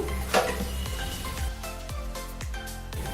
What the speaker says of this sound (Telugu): కొద్దిగా నూనె పోసాను.